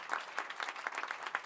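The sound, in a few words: audience applause at a meetup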